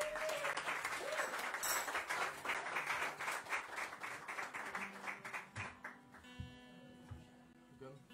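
Audience claps in welcome for a band at a radio release party, uneven applause with distinct hand claps under tonal sounds and voices, thinning out toward the end.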